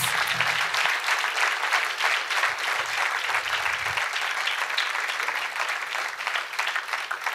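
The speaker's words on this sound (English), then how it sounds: "Can we have a big round of applause?" Sustained applause from a large audience, dense and even, continuing for several seconds with a low murmur underneath.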